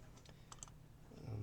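A few quick keystrokes on a computer keyboard as a search keyword is typed, soft close clicks in a brief burst, faint overall, with a low hum underneath.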